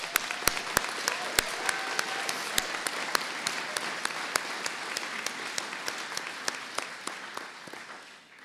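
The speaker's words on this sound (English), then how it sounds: "I'd like to start with a round of applause." A warm round of applause fills a nursing graduation commencement hall, dense steady clapping from a large audience with a few sharp individual claps standing out, gradually tapering near the end.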